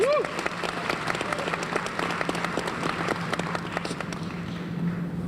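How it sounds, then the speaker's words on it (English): Audience at an awards convocation applauding for parents, a sustained round of clapping with sharp individual claps standing out and a brief voice at the start. "So let's give a round of applause for your parents"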